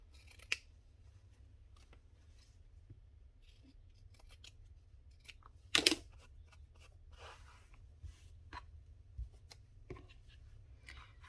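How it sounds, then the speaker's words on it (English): Scissors snip across the bottom of a heavy sheet of paper, with a few scattered quiet cuts and one sharper, louder snip in the middle against a low background hum. "I think I'm going to cut this one right across the bottom of this."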